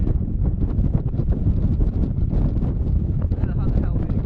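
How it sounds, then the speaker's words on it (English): Strong wind on a sailing boat around the Isles of Rum buffets the microphone in a constant loud rumble, gusting unevenly throughout with no pause. "It's so windy as well."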